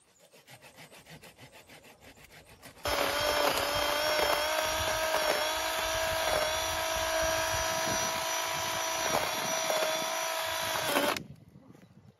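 A power saw starts after quiet handsaw-like scraping and cuts steadily through a large broken tree trunk, a loud sustained whine with small dips as it bites the wood, then stops.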